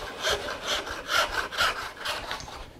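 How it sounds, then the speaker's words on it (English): A hand saw rasps steadily through scrap wood at a bench hook in repeated back-and-forth strokes, close and fairly loud, with no talking. "focus on sticking to that line and sawing perfectly plumb"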